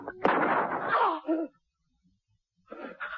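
A single sharp gunshot sounds in a tense radio drama scene, followed by a short struggle-like burst, then near silence before faint sounds return.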